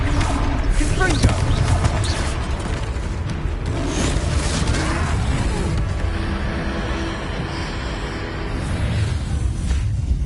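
A Confringo blasting spell goes off in Hogwarts Legacy during a troll battle, heard as rumbling booms and bursts in a dense, loud wash of fight noise that carries on for several seconds, with voices talking over it.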